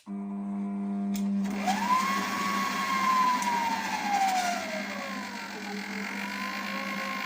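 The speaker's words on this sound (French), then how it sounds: "on va mélanger les ingrédients secs à vitesse lente" Stand mixer blending dry ingredients at slow speed, a steady motor hum with a rising then slowly falling whine, close and continuous, with no talking.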